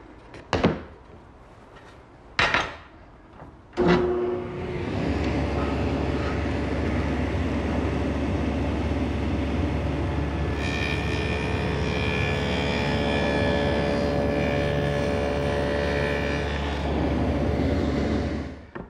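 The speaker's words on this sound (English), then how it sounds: "So I've set up my table saw with a stacked dado head cutter." A table saw fitted with a stacked dado head cutter, set for a 3/4 inch wide, 1/4 inch deep dado, starts after a few knocks and roars steadily, its pitch rising as the blade cuts through the wood before winding down.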